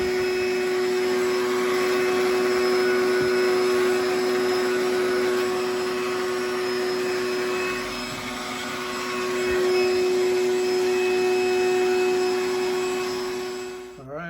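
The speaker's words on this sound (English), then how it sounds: "first step that I do is I just open up all doors of the car and do the vacuum" A vacuum cleaner runs steadily inside a car with all its doors open, a loud continuous whine with a strong tonal hum that wavers slightly as the nozzle and brush move over the interior, then cuts off at the end.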